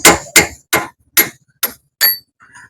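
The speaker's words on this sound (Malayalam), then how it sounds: "ഈ വാർക്കുള്ളി വെച്ച് അടിക്കണെങ്കിലേ അധികം പൊളിയൂല" A hammer strikes a chisel six times in a steady rhythm, each a sharp, loud metallic crack that rings off quickly, followed by a faint clink at the end.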